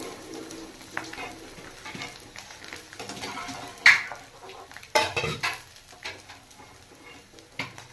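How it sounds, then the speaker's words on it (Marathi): A batch of ingredients fries in ghee for dink laddu, a soft steady sizzle broken by the clatter of a spoon scraping and knocking against the pan and a couple of sharper metallic clinks. "डिंक तळून झाल्यानंतर त्याच तुपामध्ये आपण एक जिन्नस तळून घेऊया"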